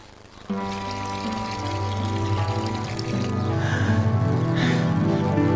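Water poured onto plants from a watering can, a steady, close pouring stream that starts abruptly and runs continuously, growing a little fuller as it goes.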